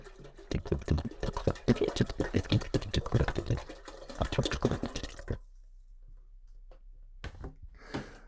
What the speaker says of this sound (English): as for the rest of the water, we're going to go ahead and pour that in our pot